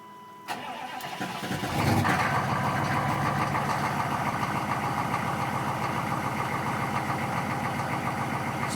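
A 6.5 diesel truck engine cold-starting after a long glow cycle, a brief crank then catching into a steady loud clattering high idle close by, running alone to the end.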